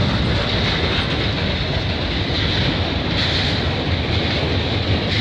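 A CN freight train, symbol CNL554, passes at Burlington Junction in a loud, steady roar of rolling wheels and rail noise that holds for the whole stretch without a break.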